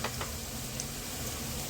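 Spices crackling in hot oil as a tempering for dal dhokli, a steady soft sizzle with a couple of brief pops near the start, close and fairly quiet, with no talking.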